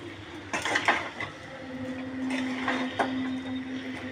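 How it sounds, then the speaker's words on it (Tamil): Fried chicken being stirred in a pan for a spiced tea-dust chicken dish, with repeated metallic scrapes and clanks of a spoon against the pan, moderately loud and close, with a faint hum underneath. "இப்போ நம்ம பொரிச்ச சிக்கனை இதில் சேர்த்துப்போம் ஃப்ரெண்ட்ஸ். சேர்த்து இது நல்லா பெரட்டிடுங்க."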